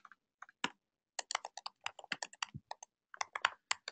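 Typing on a computer keyboard, close and quiet, with irregular bursts of crisp key clicks separated by short pauses and no voices.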